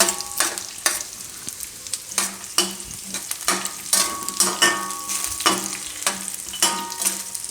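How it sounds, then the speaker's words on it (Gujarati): Mixed dry fruits roast in a pan over a low gas flame while a spoon stirs them. Steady sizzling runs under repeated scraping, clinking stir strokes, close up and without speech. "આ બધું શેકાઈ જવું જોઈએ, થોડુંક બ્રાઉન થાય એવું."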